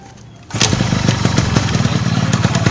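A new motorcycle in a Sundanese short film kicks into life after a quiet moment, then runs loud and close with a steady, pulsing engine beat and no talk over it.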